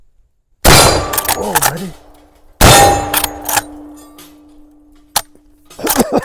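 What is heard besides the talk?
Winchester 1887 lever action rifle firing shots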